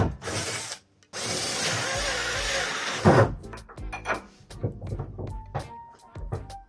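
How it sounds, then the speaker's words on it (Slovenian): A power drill bores holes through sheet metal in a garage workshop, with a long steady whine of drilling, a short pause, then a second burst followed by scattered clanks and rattles of metal and tools. "Lahko pač direkt lukne prevrtaš."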